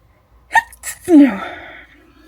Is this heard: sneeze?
yes